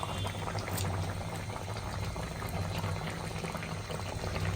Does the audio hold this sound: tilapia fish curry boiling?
yes